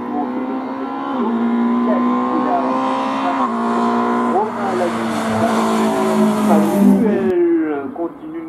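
A Citroën C3 race car at a hill climb revs hard and climbs through the gears, each upshift marked by a dip in engine pitch, with loud close passes and a brief tire squeal as it pulls away.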